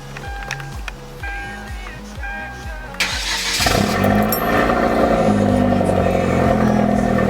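A Hyundai Genesis Coupe turns over with a rhythmic cranking for about three seconds, then the engine catches and settles into a loud, steady idle close by.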